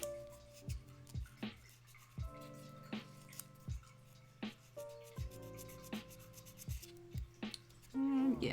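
Sandpaper rubbed back and forth over a light-curing putty garage kit figure, a close series of short scratchy strokes in an uneven rhythm, each with a soft tap, ending in a louder rustle.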